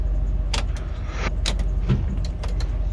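A 2002 Ford F150 Supercrew Lariat FX4 transmission shifter clicks and locks into reverse gear, with several sharp mechanical clunks and rattles over a steady low cabin rumble.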